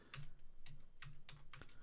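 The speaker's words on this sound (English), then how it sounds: "whenever I hit my keys on my keyboard" Keys clacking on a computer keyboard while playing Dwarf Fortress, about six quiet, evenly spaced taps, close and alone with no talk.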